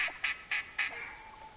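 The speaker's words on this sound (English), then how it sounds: "I hear some mallards mixed in." Mallard ducks quack in theHunter Classic, four short bright calls in a steady rhythm and then a trailing softer tail, moderately close and quiet with no talking.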